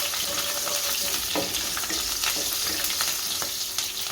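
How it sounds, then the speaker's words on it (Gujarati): Green chilies dropped into hot oil with heated mustard seeds while making upma, a loud, dense, continuous sizzle with rapid crackling and occasional spatter pops close up. "આપણી રાઈ ગરમ થઈ ગઈ છે, આ મરચાં નાખશું"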